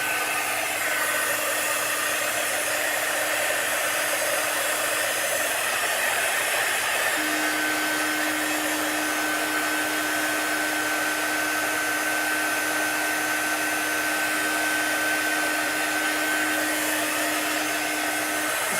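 A hair dryer blows steadily to dry a wooden craft shadow box, a loud continuous whooshing hum that holds for the full length, with a faint tone settling in partway through and no talking.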